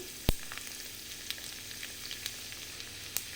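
Crushed garlic cloves frying in oil in a pan for gongura chutney, a continuous close sizzle with a sharp clink at the start and light scattered ticks of stirring, no voices.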